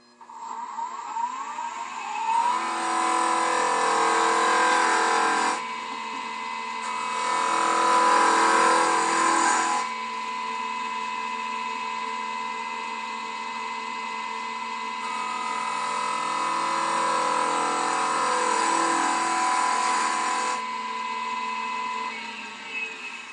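A lathe gouge cuts a face grain wood spindle, giving a steady motor whine with a hissing, scraping cut that swells in two long passes and eases in between, close and continuous with no talk.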